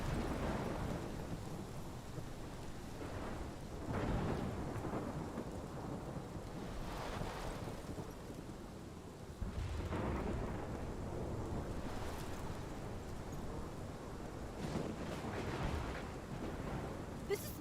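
Thunderstorm with steady rain in the video game Life is Strange, a continuous wash of downpour broken by repeated low rolling thunder rumbles, loud and close throughout.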